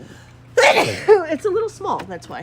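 A single sharp sneeze bursts out near the start, close and loud, followed by a person speaking casually.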